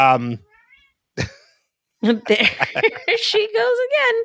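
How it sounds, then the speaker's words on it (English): A house cat meows repeatedly in a loud, close, wavering call, with a short voice comment heard just before it. "It's when she's walking around meowing."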